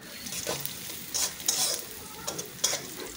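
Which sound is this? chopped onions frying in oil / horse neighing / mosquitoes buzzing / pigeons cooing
chopped onions frying in oil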